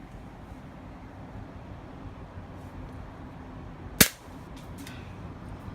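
Full-metal airsoft revolver firing a single shot, heard as one sharp, close crack that decays quickly over a faint steady background hiss.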